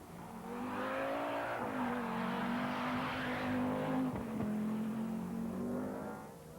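An Opel rally car at the 1983 Rallye Monte-Carlo, its engine howling and revving as it races past, steady and fairly distant and faint, with a brief scrape near the middle.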